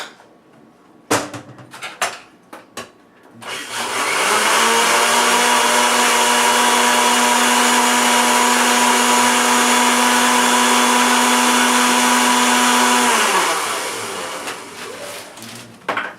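A countertop blender mixes kava liquid with chia seeds and flax. A few clicks come first, then the motor roars loudly and steadily for about ten seconds before winding down.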